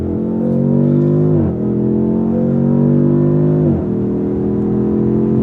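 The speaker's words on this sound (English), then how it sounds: "I'm in sport mode, and I'm gonna put my foot down to find out" A 2026 Dodge Charger Scat Pack with a twin-turbo inline-six, in sport mode under hard acceleration: a loud, close engine drone climbing in pitch, dropping briefly at two gear shifts, then rising again.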